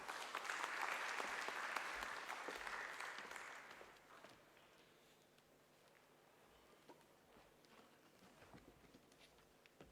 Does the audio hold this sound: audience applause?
yes